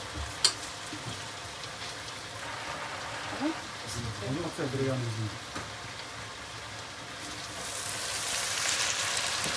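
Steady crackling sizzle of food frying in a pan, with people talking over it and the hiss growing brighter near the end.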